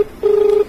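A short electronic telephone tone on a radio farming call-in program, a single steady pitched beep of under half a second, loud and close, heard alone.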